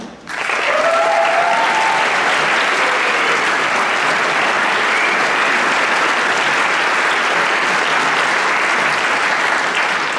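Sustained audience applause at a showband gala concert, a dense wash of clapping that rises quickly after a brief moment and stays loud and steady throughout, with faint voices beneath.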